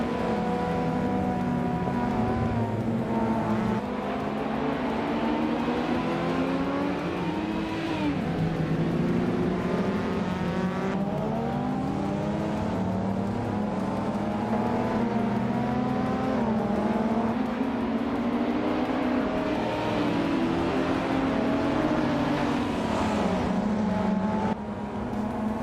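A 1983 Porsche 911 SC and other slow 1980s cars race in a video game. Several engines whine and drone together, their pitch rising and falling through gear changes in a steady, loud stream with no talk.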